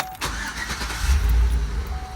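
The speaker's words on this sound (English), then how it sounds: "I'm going to go ahead and start the vehicle" The engine of a 2005 Chevy Suburban cranks and catches. A loud, continuous rumble with a strong low-end roar runs close up throughout, with no voices.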